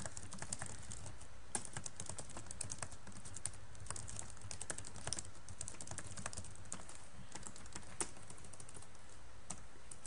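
Steady typing on a computer keyboard, a rapid run of close, light key clicks with occasional sharper taps, continuing without pause over a low background hum and no talk.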